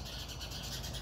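Small garden birds chirping and squabbling, a dense steady chatter of high tweets close by with no voices.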